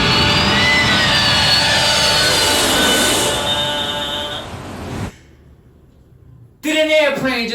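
An airplane passes overhead with a loud jet roar and a falling whine that slowly fades, then cuts off abruptly, followed by a brief quiet stretch and a burst of loud indoor noise.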